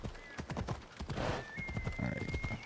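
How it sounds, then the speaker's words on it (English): Horse hooves clip-clopping in Assassin's Creed Odyssey, a quick steady rhythm of hoofbeats close by, with a whinny partway through. "I'm just trying to take my horse to this here city."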